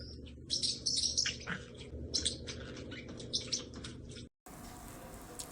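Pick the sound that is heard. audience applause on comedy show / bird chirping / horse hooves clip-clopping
bird chirping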